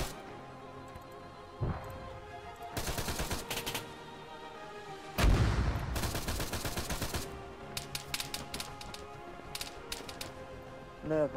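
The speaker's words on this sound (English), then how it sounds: "Ah, the machine gun's firing back" Machine gun fire in Arma 3 comes in several sharp automatic bursts separated by pauses, with a heavy boom partway through and scattered single shots toward the end, fairly distant and unaccompanied by talk.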